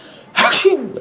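A man imitates a sneeze with his voice, one loud, sharp burst that trails off into a short falling vocal tail.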